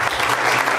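A church audience at a 2003 backyard musical production of The Shepherd King applauds its two directors. The burst of clapping is brief, full and steady, with no voices.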